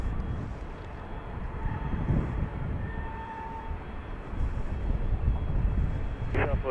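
An airliner departing westward from Dallas Love Field, a continuous low jet rumble heard from a distance that swells slightly toward the end.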